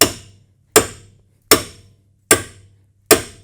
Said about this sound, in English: And I'm gonna hit this pretty hard so that it separates the two.